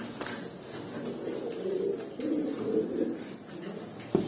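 Pigeons coo softly in a loft, a continuous low murmur of overlapping calls at moderate distance, with a faint click near the end and no talk.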